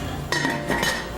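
A metal utensil clinks and scrapes against a pan twice while stirring pork chops in sweet and sour sauce with pineapple, close and fairly loud over a quiet background.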